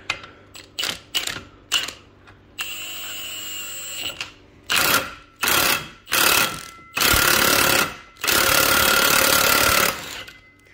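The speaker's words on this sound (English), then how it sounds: "we should be able to use an impact to pop this guy off" On a Yamaha 700 triple engine, an impact wrench drives a clutch pulling tool to pop the clutch off, firing loud, close rattling bursts that start short and choppy and then run as longer hammering stretches with brief pauses between them.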